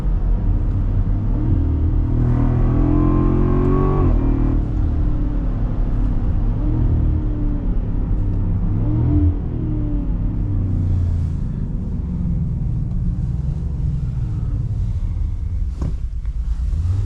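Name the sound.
supercharged V8 engine and exhaust accelerating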